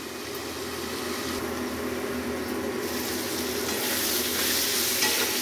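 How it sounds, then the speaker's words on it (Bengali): Pointed gourd (potol) frying in a pan for a Bengali fish curry, a steady close sizzle with scraping stir strokes that grows louder and brighter toward the end, with no talk. "এবারে দেখো পটলটা ভাজা হয়ে গেছে, ভালো করে লাল করে ভেজে নিয়েছি।"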